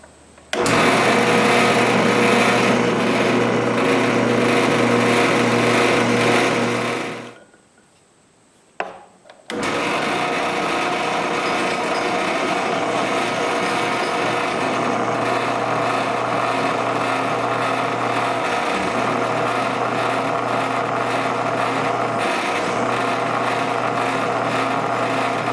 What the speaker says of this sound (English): Here I am countersinking the metal with an 82-degree countersink